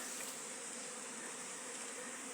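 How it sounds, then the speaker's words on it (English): Queenless honey bees buzz continuously around a small cluster during a difficult hive removal, a dense steady drone of many wings, close and unbroken. "Very small cluster of bees right here."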